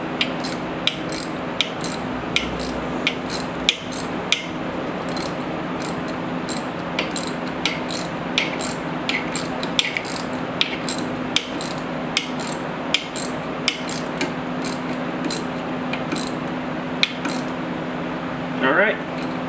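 A socket ratchet tightening a pressure washer backflow valve fitting, rapid metallic clicking in repeated bursts with short pauses between turns, close up, under a steady low hum and someone talking.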